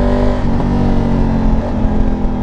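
Close motorcycle engine holding a loud, steady rev under open throttle, with rich layered harmonics and a slight pitch dip midway.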